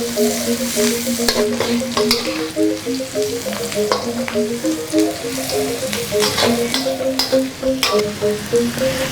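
Garlic and galangal frying in a pan, a constant bright sizzle with occasional stirring scrapes, loud and close without any talk.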